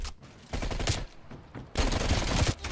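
AMP63 submachine gun fired in Black Ops Cold War multiplayer on PC, two close, loud rapid bursts of automatic fire separated by a short pause.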